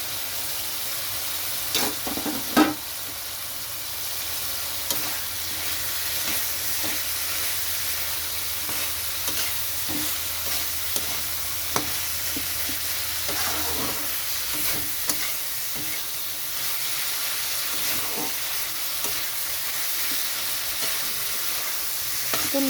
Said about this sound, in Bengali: এখানে দিয়ে দিচ্ছি আমি শুটকি মাছ।